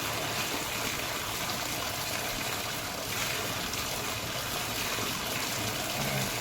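Water pouring steadily out of an aquaponics overflow, a continuous close rushing gush with no pauses and no talk.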